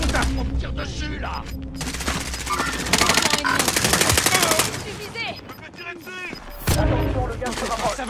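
Call of Duty Warzone gunfire, with sustained automatic bursts and scattered shots layered over game noise, loudest in the middle and near the end, and someone talking briefly between volleys.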